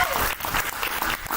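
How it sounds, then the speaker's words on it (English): A poetry slam crowd claps for a poet in a short, dense burst of applause, steady and fairly loud with no voices. "Applaud the poet."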